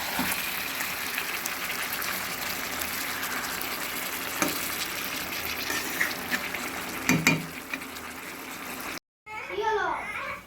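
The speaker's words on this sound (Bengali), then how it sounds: "আর এই পাশে মাংস হচ্ছে, এটা চিকেন হচ্ছে।" Chicken meat cooking in a pan in a home kitchen, giving a steady close sizzle and bubbling that runs almost throughout, with a few louder stirring knocks and a brief cut near the end before voices talk.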